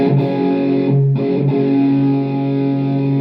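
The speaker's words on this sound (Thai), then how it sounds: "แต่เสียงแตกนะครับเสียงแตก" A sustained, heavily distorted electric guitar chord from a KORG AX3000G effects unit rings out, briefly cut off near the start, then continues loud and buzzing without any voices.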